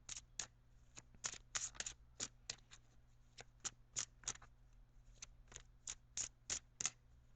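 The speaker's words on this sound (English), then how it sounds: "I'm shuffling for your outcome card." Rapid, crisp riffling of tarot cards being shuffled, a series of short papery bursts in irregular rhythm, close and fairly quiet with no talking.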